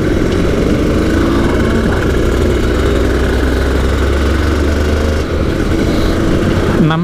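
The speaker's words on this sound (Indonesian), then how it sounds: "So, kita ngetes motornya di jalan raya utama BSD dan bakal muter ke belakang." An Aprilia RS250 two-stroke 250cc motorcycle engine runs loud and close in a steady, buzzing drone. Its pitch dips briefly near the end.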